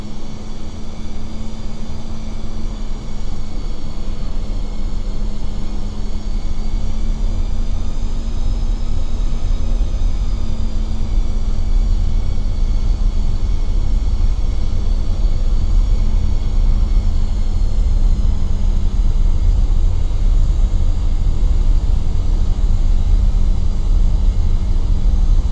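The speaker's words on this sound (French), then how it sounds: "on peut commencer le roulage vers la gate" Airliner taxiing toward the gate in the X-Plane 11 flight simulator: a steady loud engine rumble with a constant hum, faint whining tones that drift in pitch, continuous and unbroken with no voices.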